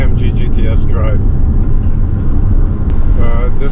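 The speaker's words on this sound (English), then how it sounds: "How does this AMG GT S drive?" A 2016 Mercedes-AMG GT S sports car on the move, its loud, steady engine and road rumble filling the whole clip while someone talks over it.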